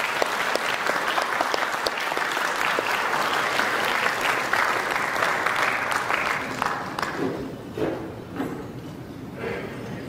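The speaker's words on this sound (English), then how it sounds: "Ladies and gentlemen, a round of applause for Justice Antonia T." Loud, sustained applause fills a conference hall at a general membership meeting, steady clapping for several seconds before thinning out toward the end.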